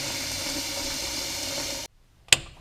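Water pours steadily into a pan of dried feed corn being readied for boiling as carp bait, a continuous rushing flow that stops abruptly, followed by a single sharp clink.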